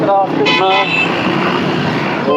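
Busy road traffic at holiday rush hour, with loud car horns tooting in short bursts over a dense rumble of passing vehicles, close and loud, with a voice talking over it.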